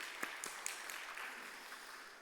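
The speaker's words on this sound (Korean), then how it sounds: "격려의 박수 한 번 더 하겠습니다." Faint applause from a church youth worship congregation for the choir, a few distinct claps early on thinning into a soft, distant patter with no talk.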